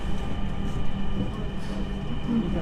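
Steady low rumble and rattle of a crowded Dhaka metro rail train running at rush hour, heard from inside a carriage near Karwan Bazar, with faint murmuring voices underneath.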